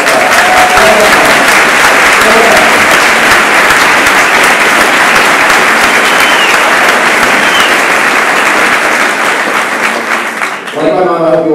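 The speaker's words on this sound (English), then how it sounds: "Give her a round of applause." Loud, sustained applause from a university commencement crowd, thick clapping filling the space throughout before it tapers at the end as a voice begins.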